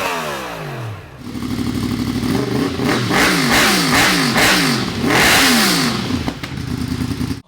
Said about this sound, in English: here's the exhaust differences between a stock exhaust and a SC Project on an MT10